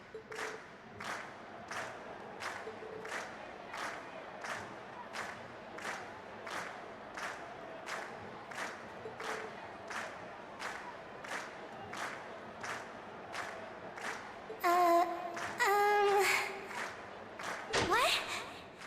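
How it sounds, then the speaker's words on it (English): A concert crowd in the video game Trails of Cold Steel claps in a steady, even rhythm and cheers. Near the end a louder burst of cheering and shouting rises over the clapping. "And we've heard your cheers loud and clear."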